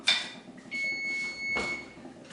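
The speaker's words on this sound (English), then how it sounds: "my timer is ringing, so let's check on them." A kitchen timer rings with sustained high electronic beeping tones, cutting in and out twice over a short span, close and fairly clear.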